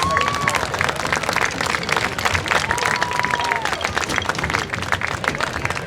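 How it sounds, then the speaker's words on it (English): Audience applause at a marching band premier event, steady dense clapping from a crowd with faint tonal sounds mixed in. "Let's give them a round of applause, please."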